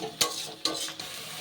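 Spice paste for an elephant-foot yam curry is stir-fried in a pan, a soft sizzle marked by three sharp scrapes of the spatula against the pan, close up with no speech.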